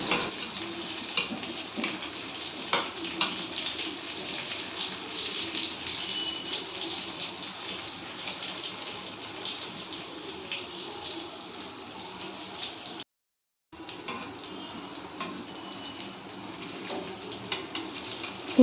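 Surmai fish pieces frying on a pan give a steady, hissing sizzle that runs evenly throughout, close and moderately loud, broken once by a short silent gap.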